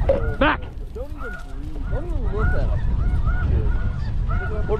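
Snow geese honk repeatedly during a goose hunt in extreme wind, a flock calling in overlapping rising and falling cries over steady gusting wind noise.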